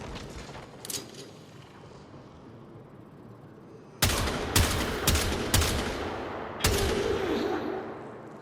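Warframe video game gunfire: a faint early shot, then from about four seconds loud bursts of rapid shots in clustered volleys with a sharp crack each, close and dominant, no talk.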